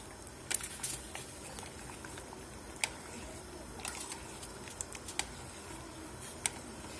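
Grape juice comes to a boil in a pot for homemade compote, a soft continuous bubbling with scattered small pops and ticks, close and fairly quiet.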